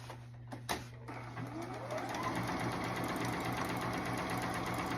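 A sewing machine stay stitching the collar of a denim jacket, running in a steady close whir after a few soft clicks and handling knocks at the start.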